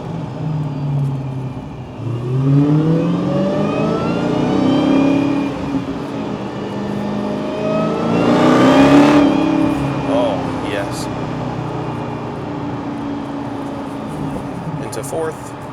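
A supercharged 2015 Dodge Challenger Hellcat V8 rumbles and rises in pitch as it accelerates and revs through the gears, loud and steady from inside the car, with someone talking over it.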